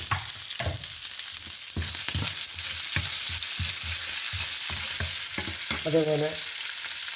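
Dried red chillies and curry leaves frying in oil with golden urad dal for koottu curry: a loud, dense sizzle with sharp popping crackles throughout, and a brief spoken word near the end.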